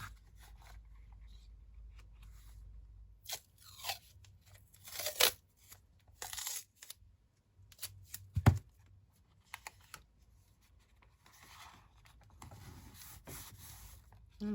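Masking tape is handled, pulled and torn while journaling, giving scattered rustles, rubs and a few sharp ripping bursts, close but quiet, with soft handling noise in between.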